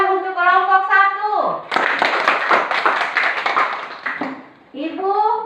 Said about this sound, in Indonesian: Mari kita tepuk tangan untuk kelompok